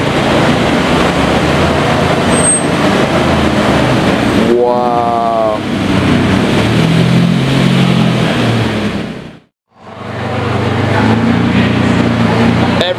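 Lamborghini Diablo engine rumbling as the car backs up to park, a steady near loud drone with a brief rising rev, voices talking over it and a sudden short dropout.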